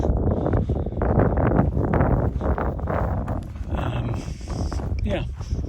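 Wind buffeting the microphone in an open grassland valley, a heavy low rumbling gust that swells and eases, loud and close, with someone talking over it.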